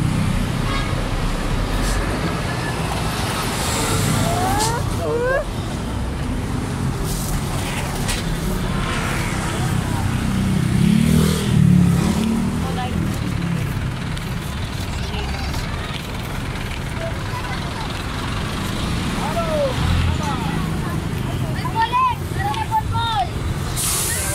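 Traffic in a busy public market street, with a motor vehicle rumbling past, several short horn toots and a constant crowd hubbub, loud and close, while people talk throughout.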